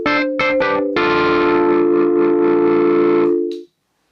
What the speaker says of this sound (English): or juicy tube saturation